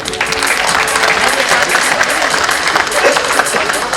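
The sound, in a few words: audience applause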